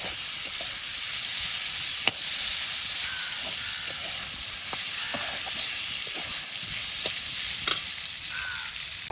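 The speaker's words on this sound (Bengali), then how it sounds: "আমরা এখানে আলু ভাজাটা তৈরি করে নিচ্ছি" Steady, loud sizzling of potatoes frying in hot oil with salt, turmeric and dried chilli at an outdoor village cooking spot, with occasional soft clicks and scrapes of stirring, no voices.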